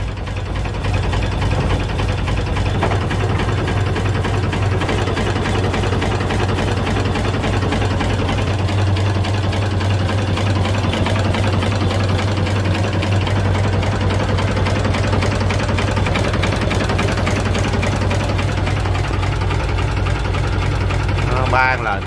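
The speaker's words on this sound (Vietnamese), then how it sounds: "Đề cái giật cái cũng chạy, nó đề quá nhẹ nhàng mà đều." A Kiểu An Hiệp 1350 boat engine idles with a steady, loud low throb and mechanical chatter, running evenly throughout while people talk nearby.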